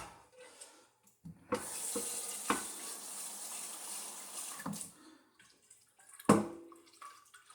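Water running from a tap into a container while mixing sugar solution for homemade apple wine, a rushing pour that starts, stops and restarts in bursts with clunks between, fairly close.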